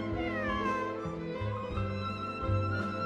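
Cat meowing in the video game Genshin Impact, a game cat's repeated meows and mews rising over a steady background music bed, close and fairly loud, with no talking.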